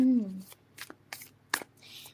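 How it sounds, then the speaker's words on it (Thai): Tarot cards being shuffled and laid out in a quick series of short papery riffles and flicks, with a voice heard briefly at the start. "เรามาเปิดไพ่เวทมนต์กระดาษกันเลยนะคะ"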